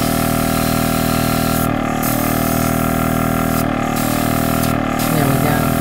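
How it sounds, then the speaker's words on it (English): Airbrush spraying Testors acrylic paint through a siphon feed, a steady continuous hiss that runs alone throughout, briefly dipping in a few short gaps. "Oh yeah, it's spraying out already"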